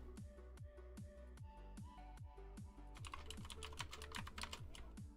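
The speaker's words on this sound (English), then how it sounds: "probably hear my keyboard for a sec" Fast, rapid clacking of a computer keyboard during a live game session, continuous crisp keystrokes close by, with a denser flurry of quick presses toward the end.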